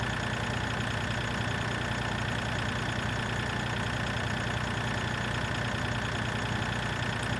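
Tractor engine idling in the video game Farming Simulator 2013, a steady, continuous low mechanical drone with a faint knocking texture, constant in level throughout and heard alone without speech.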